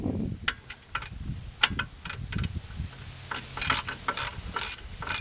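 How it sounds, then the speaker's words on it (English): A ratchet loosening a brake caliper bolt on a 1988 BMW 325i gives bursts of close, sharp clicking pawl ticks in irregular runs, with brief pauses between strokes. "Alright, now we're going to use the ratchet."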